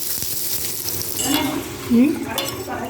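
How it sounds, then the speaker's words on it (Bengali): Eggplant pieces with salt and turmeric fry in oil, producing a close hiss and sizzle under stirring scrapes and a couple of soft utensil clinks. "ভাজা হয়ে গেলে বেগুনগুলো"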